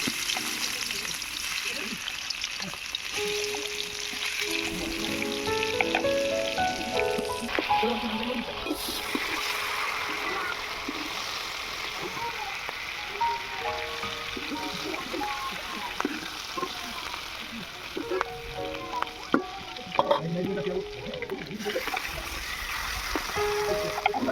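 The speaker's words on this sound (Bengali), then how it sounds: "চিংড়ি মাছগুলোকে প্রথমে আমি ভেজে নেব।" Prawns fry in hot oil with a steady crackling sizzle and occasional spatter, staying close and even for the whole stretch.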